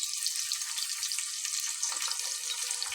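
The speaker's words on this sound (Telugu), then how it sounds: "ఉల్లిపాయలు వేసాను." Onions fry in a pan for veg biryani, giving a steady, close hiss of bubbling oil with faint crackles, continuous and alone.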